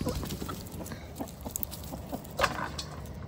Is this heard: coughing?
no